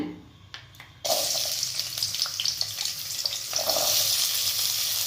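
Hot oil frying steadily, a dense crackling sizzle that starts abruptly and holds loud and close, with no talking.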